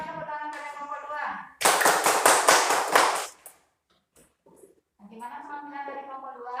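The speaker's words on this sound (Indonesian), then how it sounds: "Berikan tepuk tangan pada kelompok 2." Classroom applause for a student group: a burst of many hands clapping together for about two seconds, with talk before and after.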